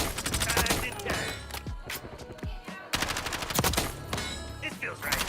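Rapid bursts of gunfire from a video game shooter, loud and close, with dense automatic volleys that break off briefly and then resume.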